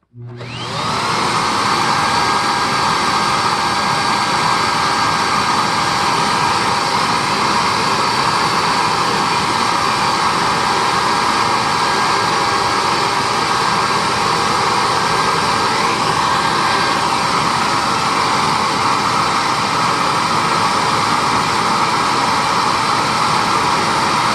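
A 2006 SEBO Airbelt K2 vacuum motor spins up quickly, then holds a loud, steady whine with rushing airflow during an unrestricted airflow test, continuous and unchanging throughout.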